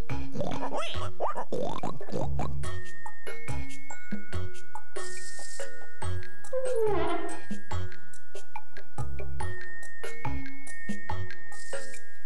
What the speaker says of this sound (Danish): Og på den gård, der var en gris.